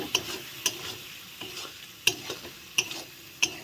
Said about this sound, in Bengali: দইটা দিয়ে এখন ঘন ঘন নাড়তে হবে